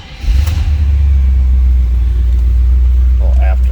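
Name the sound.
1977 Pontiac Trans Am engine starting and running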